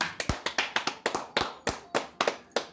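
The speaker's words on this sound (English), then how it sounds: "Let's give a round of applause." A small group claps at a Habit Burger mukbang, about a dozen sharp, close claps in a quick, fairly steady rhythm, with brief gaps between them.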